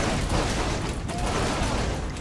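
Continuous dense gunfire from Saints Row: The Third, a steady loud barrage of overlapping shots with no pauses across the whole stretch.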